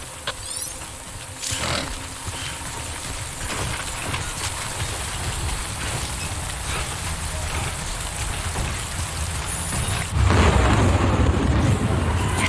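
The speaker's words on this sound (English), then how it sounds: "Don't stay out in the rain any longer than you have to." Timefall rain falls steadily in the Death Stranding video game, a constant hiss of drops on surfaces with a few dull thumps and a deep rumbling burst near the end.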